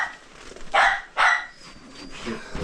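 Dogs begging for treats and attention bark in two sharp, loud bursts close by, followed by softer yips and whimpers in a busy indoor setting.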